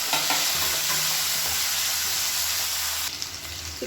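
Chopped medium tomatoes are stirred into sautéing onion in a hot pan, giving a steady close sizzle with light scraping stirs, and the frying eases slightly toward the end.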